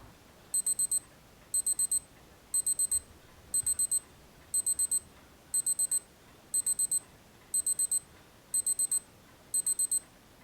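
Casio G-Shock DW6900 wristwatch alarm sounding a crisp, high electronic beep pattern, quick bursts of four repeating about once per second, close and clear over quiet background.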